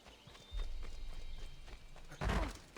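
Horse hooves clip-clopping in the video game Assassin's Creed II, a soft rhythmic trot starting about half a second in and continuing, with a louder burst of movement near the end, no talking.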